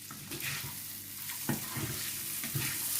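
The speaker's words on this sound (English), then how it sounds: "All you want to do with these is heat them up and get all that buttery, peppery taste onto there." Carlin peas heating in a buttered pan, with a soft continuous sizzle broken by several light stirring scrapes.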